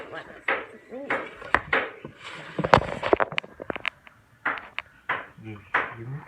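Pancake batter being mixed in a bowl, with irregular clinks and knocks of a utensil against dishes, heard under frequent talking.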